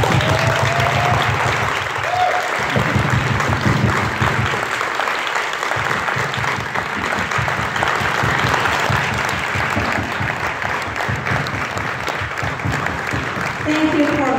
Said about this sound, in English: So I would like our entire team actually to applaud our community here.